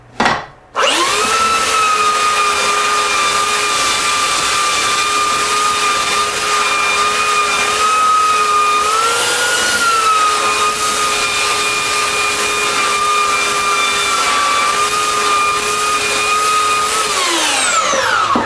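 A steady power sander whines loudly and continuously for about seventeen seconds while sanding a wooden board across the grain, its pitch dipping briefly midway before spinning down at the end.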